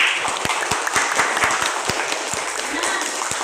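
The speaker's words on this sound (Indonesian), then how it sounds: "kita tepuk semangatnya Ibu Apus sekali" A schoolroom class claps a rhythmic group clapping routine, a dense wash of many hands with regular sharp accented beats throughout, loud and close.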